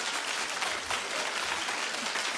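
A television talk show studio audience claps in a dense, loud, continuous burst, brief and unbroken with no voices over it.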